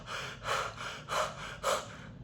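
Three sharp, audible inhalations come in an even rhythm, each a short breathy rush, close and fairly quiet.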